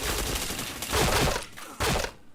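Short bursts of video game gunfire rattle close and loud in two quick volleys, with no talk.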